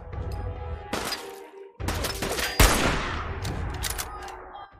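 Gunfire in the video game Fallout 4: loud bursts of rapid shots and booming impacts with crackling debris, coming in close succession over a few seconds.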